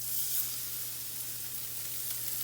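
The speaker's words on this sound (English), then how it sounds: "Now we're going to go ahead and we're going to sear this." Salmon searing in hot oil, a steady bright hiss with a low hum beneath, even and moderately quiet throughout with no one speaking.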